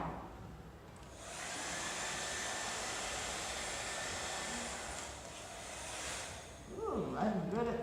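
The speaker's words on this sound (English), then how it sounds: "I'm good at using a hairdryer" A hair dryer blows in a steady, loud roar for several seconds, then it eases and a voice speaks near the end.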